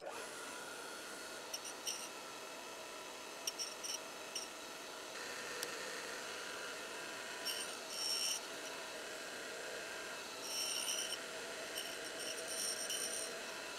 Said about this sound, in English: this is the first time I've ever done flute grinding